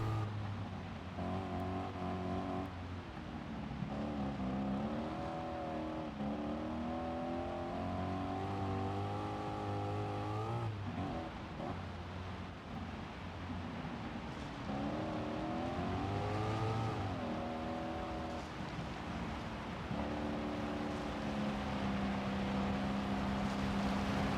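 Race car engines in Gran Turismo Sport roar continuously, revving up and down through gear changes with steady loud drive and pitch sweeps as cars jostle on a final lap, no talk.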